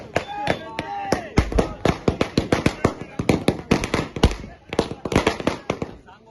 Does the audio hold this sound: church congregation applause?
no